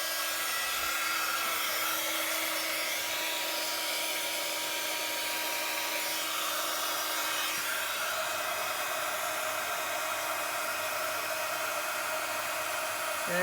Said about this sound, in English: we just need the heat gun and melt that